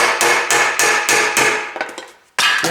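Sharp metal hammer blows driving a knife blade into the glued seam of an engine cover on a Ford Duratec engine, about eight strikes in an irregular rhythm, close and loud, with a short pause before the last hit.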